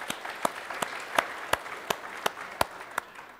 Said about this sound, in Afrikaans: ons kom klap vir haar hande